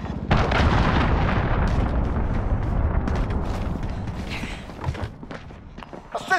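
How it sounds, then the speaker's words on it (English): A cruise missile strike in Call of Duty Modern Warfare lands as a loud, booming explosion that rumbles and rolls for several seconds, then fades into scattered thumps and debris. "Enemy cruise missile incoming."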